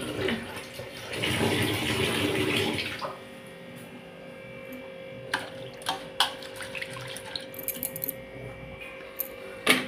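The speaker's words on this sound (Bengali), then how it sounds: "জলটা পড়ছে" Tap water pours while broken wheat (dalia) is rinsed in a home kitchen, a steady splashing rush for about three seconds before it is shut off, followed by quieter clinks and handling sounds.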